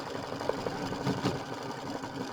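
A sewing machine runs steadily, stitching triple-stitch straight letters on fabric, a close continuous mechanical whirr with a fast rhythmic chatter throughout.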